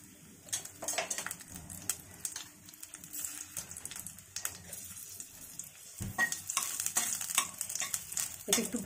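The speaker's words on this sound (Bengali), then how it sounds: "কড়াইয়ে একটু তেল গরম করে ওর মধ্যে পাঁচফোড়নটা দিয়ে নিলাম" Panch phoron spices frying in hot oil in a wok alongside green chilli and bay leaf: a soft crackling sizzle broken by frequent sharp clinks and scrapes of a utensil against the pan, close and moderately quiet.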